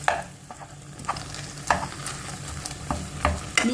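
Mixed mincemeat fries in a pan while being stirred and broken up, with a steady close sizzle under repeated scraping and clattering strokes of a spoon, and no voices.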